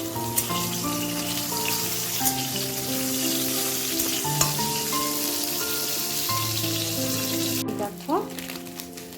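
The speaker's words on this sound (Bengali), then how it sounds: "ফুলকপিগুলো মোটামুটি পটল ভাজি হয়ে গিয়েছে" Cauliflower fries in a pan with a steady, dense sizzle under soft background music. The frying sounds close and continuous, with a brief clatter near the end.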